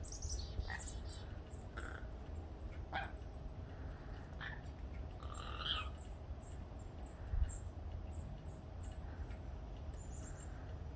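Wild birds at a backyard bird feeder chirp in short, scattered calls over a steady outdoor hiss, with a dog barking faintly now and then in the distance.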